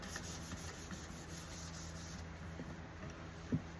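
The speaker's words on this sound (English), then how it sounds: "I sanded with first 400 film sheet 400 grit" Hand sanding a first coat of Envirolak 100/30 finish with a 400 grit film sheet: soft, faint rhythmic rubbing strokes close by, with a small knock near the end.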